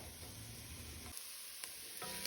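Onions sweat over medium-low heat in a pot for a sun-dried tomato vodka pasta, giving a soft, continuous hiss with a couple of faint clicks, fairly quiet and without talk.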